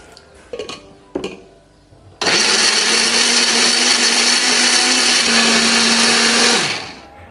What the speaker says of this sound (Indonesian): Bumbu ini akan kita haluskan menggunakan blender ya.